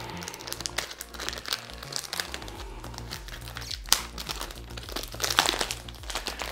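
A knife slicing open a cardboard perfume box, with close crinkling, scraping and crunching of cardboard and tape over steady low background music.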